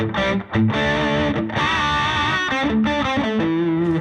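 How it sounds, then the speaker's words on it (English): An electric guitar plays through an amp's lead channel with the lead boost engaged, producing a loud, saturated, sustaining distorted tone in a continuous run of bent notes and chords. "Now I can just do the lead boost on that lead channel as well."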